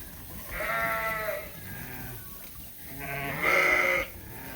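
Sheep in a pen bleat twice in long, wavering calls, the second one louder and closer, with quieter farmyard shuffling between them.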